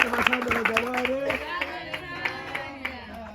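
Congregation applauding in church, rhythmic clapping beating steadily under sung or spoken voices, moderately close and fading slightly.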